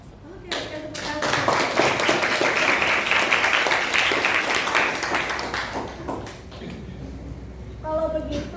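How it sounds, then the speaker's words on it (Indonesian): Classroom applause from students, brisk close clapping that swells quickly and holds for several seconds before thinning out, with a few voices and shuffling around it. "Oke, berikan tepuk tangan."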